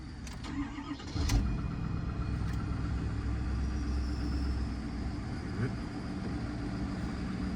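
A truck engine turns over from a buckled-in cab with the parking brake set and the gearbox in neutral. After a short crank it catches and settles into a steady low idle rumble, with no talk over it.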